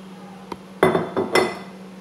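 Cooking pan handled on a kitchen counter while 600 ml of water is poured in for a strawberry glaze, a few close metallic clanks and clinks with a brief splash.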